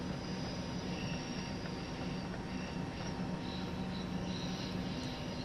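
Steady rumble of a TGV Duplex Series 200 double-deck high-speed train running in Train Sim World 5 near Marseille, a continuous even roar with faint high whine, no talk.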